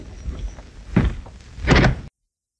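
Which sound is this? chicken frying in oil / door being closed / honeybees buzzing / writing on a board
door being closed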